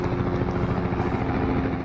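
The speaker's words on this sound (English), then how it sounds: "Helicopters fly over Lynn Lake as crews work to battle out-of-control wildfires" Helicopters flying over a wildfire zone near Lynn Lake, a northern Manitoba town, give a steady loud rotor drone with a low throbbing chop and no voices.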